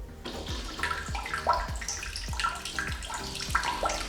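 A bidet's water jets spray in a Bali hotel bathroom, a steady rushing hiss with small splashes and drips, faint and close with no talk.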